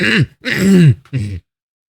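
A person clears their throat with three rough, guttural bursts, close and loud, followed by silence.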